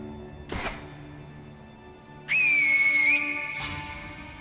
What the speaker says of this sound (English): use my finger whistle